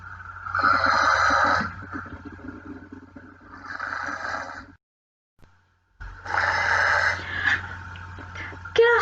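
A voice imitates a snoring dog in a children's story, with wheezy, snorting breaths in three bursts separated by pauses, the last after a brief silence.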